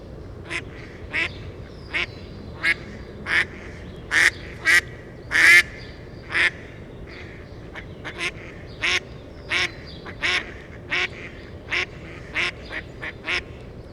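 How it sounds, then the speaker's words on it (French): A mallard duck quacks over and over in a steady series of loud, nasal calls, about twenty in a row, with brief pauses between them, in a marsh. "ils émettent un coin-coin très caractéristique"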